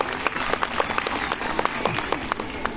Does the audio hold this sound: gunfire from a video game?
no